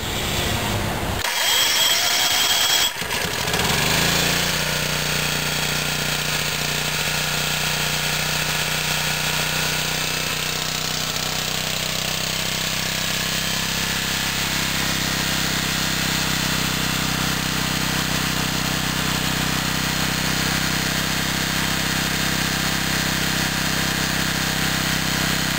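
A Generac 4000EXL generator converted to run on propane rattles briefly while starting, then settles into a loud, steady engine drone that holds for the rest of the time, with no voices.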